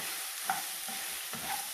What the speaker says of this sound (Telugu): పసుపు అంతా పోపు పట్టేటట్టుగా వేయించుకోండి